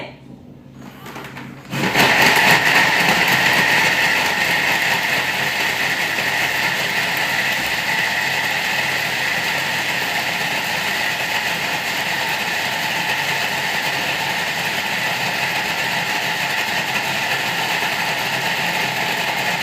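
A Thermomix TM7 food processor whirs up to a loud, steady blend at speed 8 after a brief quiet start, holding a constant buzzing roar throughout.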